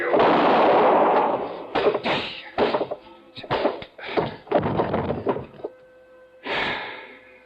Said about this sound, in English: I knew the sound of the gunshot would bring the others back to the cabin.